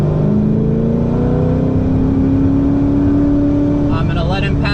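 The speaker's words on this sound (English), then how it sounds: "Here comes the GT behind me." A GT race car on a circuit, heard as a loud, steady engine roar with rising pitch as it closes in from behind, dominating the sound while a driver talks over it.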